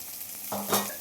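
Curry leaves and pirandai stems hitting hot oil with spluttered cumin, a sudden crackling sizzle that flares up halfway through, with a light scrape of a stirring spoon in a pan, no voices.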